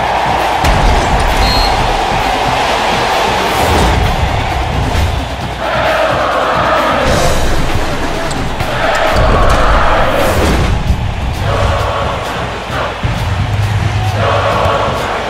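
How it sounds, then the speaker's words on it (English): A college basketball arena crowd in the NCAA Basketball 10 video game roars and cheers continuously, with swelling surges, thumps and ball bounces in the mix. "They're going crazy in the stands right now."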